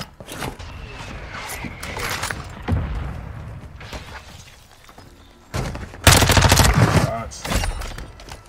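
Gunfire in Call of Duty Warzone: a loud burst of rapid automatic shots and thuds, scattered single cracks earlier and a dense volley near the end, with game sounds and a voice talking in between.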